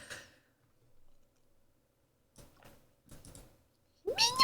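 A cat in a horror video game lets out a short meow at the very end, following near-silence broken by a few faint clicks and soft taps.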